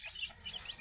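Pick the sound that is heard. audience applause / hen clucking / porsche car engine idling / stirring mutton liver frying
hen clucking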